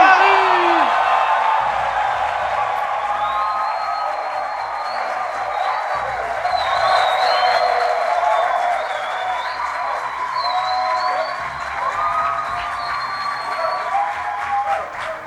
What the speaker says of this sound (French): un tonnerre d'applaudissements pour le pur, le dur, l'honorable Tahirou Barry